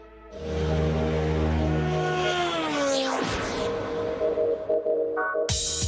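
An Acura 3.4-liter aluminum alloy V8 race car engine roars close by, revving hard and then dropping in pitch as it passes. Its note sweeps downward, followed by rough, fluttering engine noise and a sharp burst at the end.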